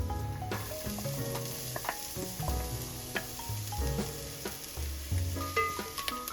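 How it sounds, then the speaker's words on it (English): Garlic and onion sautéing in oil in a big pot: a soft, continuous sizzle broken by clinks and scrapes of stirring, close and fairly quiet. "In a big pot, heat some oil. Sauté garlic and onion."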